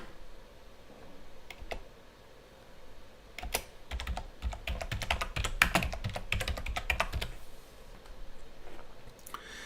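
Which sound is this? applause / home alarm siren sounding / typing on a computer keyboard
typing on a computer keyboard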